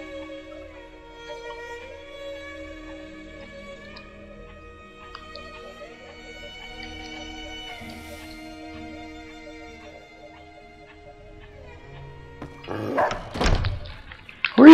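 A dog barks in the video game Fallout New Vegas: a short burst of loud, sharp barks near the end, rising over steady background game music.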